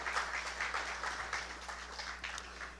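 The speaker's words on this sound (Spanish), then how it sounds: "Vamos a darle un fuerte aplauso al Señor." A church congregation at a Spanish-language service claps in praise, heard as a rhythmic, fairly faint burst of clapping in regular pulses against a low steady hum.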